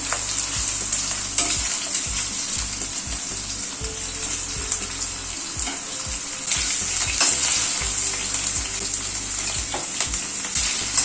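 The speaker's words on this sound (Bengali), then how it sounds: "আলুটা আগে একটুখানি ভেজে নিই।" Potatoes frying in a pan make a loud, steady hiss close by, broken by repeated scraping and clinking strokes of a spatula as they are stirred.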